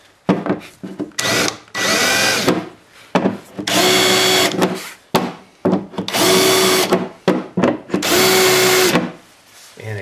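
A power drill whirs in repeated bursts on a boat's seat-to-hull seam, several short and longer high-pitched runs separated by pauses, close and loud.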